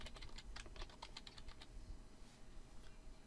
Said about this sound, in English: You can type your name here if you want